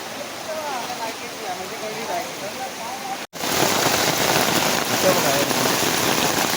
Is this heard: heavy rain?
yes